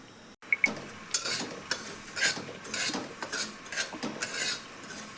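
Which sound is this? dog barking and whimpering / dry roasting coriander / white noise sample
dry roasting coriander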